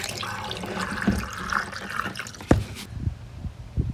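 Antifreeze poured from a jug into an RV's plumbing during winterizing, a steady liquid gurgle and splash close by with a few knocks and thumps near the end.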